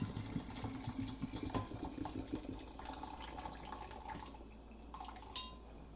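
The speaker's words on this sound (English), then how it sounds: "Pour those noodles straight in." Cooked rice noodles for pad thai are poured from a pot into a double straining basket in a kitchen sink, with a soft rush of water and a few light metallic clanks. The sounds are quiet and close.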